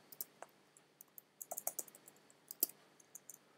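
Typing a comment on a computer keyboard, with scattered, quiet key clicks coming in small irregular bursts at close range with no voices.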